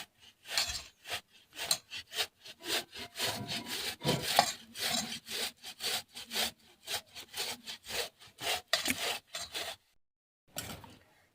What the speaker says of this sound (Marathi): तर बघा मी अशा प्रकारे पूर्ण बटाटा किसून घेतलेला आहे